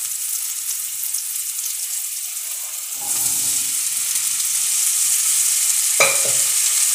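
Broad beans (mochai) frying in a pan as they are stirred, a soft sizzle under scraping strokes of a spoon against the pan, with a sharper scrape near the end.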